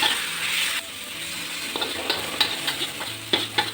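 Char kuey teow noodles with chicken sizzle and fry in a wok as the sauce goes in, a steady loud hiss broken by scraping stir strokes and clanks.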